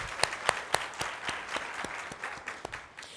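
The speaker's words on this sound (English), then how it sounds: "let's give them a round of applause" An audience claps in applause at a 40th anniversary celebration for the Women's Foundation of Minnesota, thanking event sponsors; steady, moderately loud clapping with a few sharper individual claps standing out.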